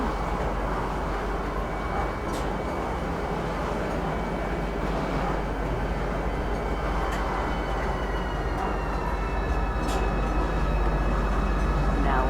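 Steady rumble and hiss of an in-game train ride into Lorville, an industrial city in Star Citizen, a continuous loud drone with faint high tones and no break across the ride.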